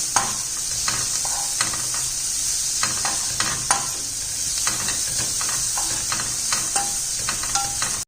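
Vegetables sizzle and hiss steadily in a hot pan for cheese macaroni, with frequent scraping and clacking stirs layered over the continuous frying, close and fairly loud.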